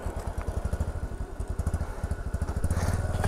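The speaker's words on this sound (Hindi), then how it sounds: "इधर से चढ़ेगी बाइक" A KTM Duke 250 motorcycle labours up a hill, its engine pulsing in a rapid, steady low throb that grows slightly louder toward the end, close and alone with no talk.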